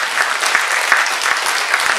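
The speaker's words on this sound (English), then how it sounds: "So would you give yourselves a big, massive clap?" Audience at a clairvoyant evening held at a riverfront theatre gives themselves a big round of applause, loud, dense and steady clapping filling the whole stretch with a few sharper claps standing out.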